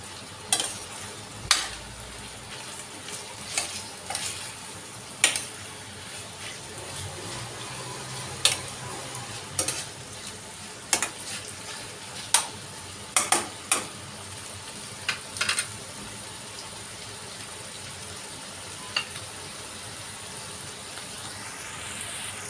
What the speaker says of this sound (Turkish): şu anda et ve mantarla birlikte kavruluyor gördüğünüz gibi bakın